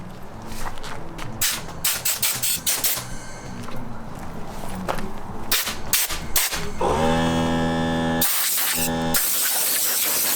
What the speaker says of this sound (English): We're spraying it on, let it soak for a minute, then we wipe it off.